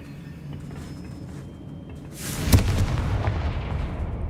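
Confringo spell explosion in the video game Hogwarts Legacy, a single loud, close blast after a quiet stretch, with a rumbling tail that trails off.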